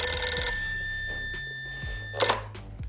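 A telephone bell rings in a short loud burst of bright, sustained ringing, then cuts off, leaving quiet room noise and a brief clatter as the receiver is handled.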